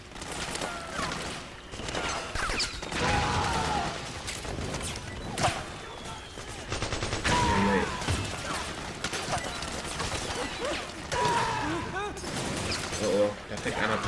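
Bursts of AK assault rifle fire in the video game Metal Gear Solid 4, loud repeated sharp cracks across the stretch, mixed with crashes and mechanical clatter during a militia hideout fight.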